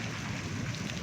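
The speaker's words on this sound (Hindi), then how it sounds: "ये देखिए, बहुत तेज़ बारिश है और आंधी बहुत तेज़ चल रही है।" Heavy rain pounds down amid strong gusting wind during a sudden storm in Saudi Arabia, a dense, steady roar with low rumbling underneath and no voices.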